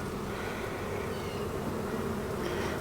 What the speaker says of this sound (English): there are plenty of bees